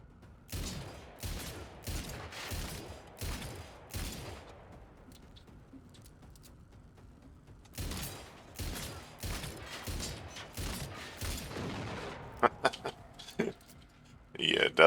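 Gunfire in the video game Generation Zero, loud rapid bursts of shots in two clusters separated by a quieter lull, with scattered sharper cracks near the end.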